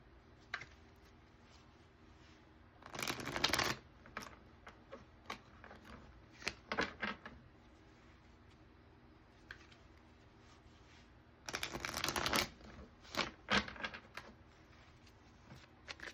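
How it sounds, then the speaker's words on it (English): A deck of Clarifying Life Situations advice cards being shuffled, two bursts of riffling and fluttering card sounds with scattered light taps and clicks between them in a quiet room. "pull a few advice cards from the Clarifying Life Situations deck"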